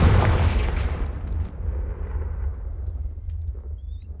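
Confringo spell blasts from the video game Hogwarts Legacy, a dense roar of explosive impacts that is loud and sustained, thinning out into rumble toward the end with no talk over it.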